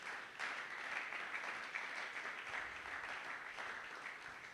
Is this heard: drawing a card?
no